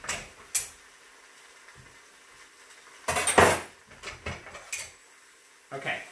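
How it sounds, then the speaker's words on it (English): Another knife is fetched in a home kitchen: rattling cutlery and a drawer sliding, with a cluster of clinking metal clatter in the middle and a few softer knocks around it. "I'll grab another knife"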